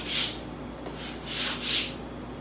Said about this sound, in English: I'm just going to take some sandpaper and just get rid of the any tear out or roughness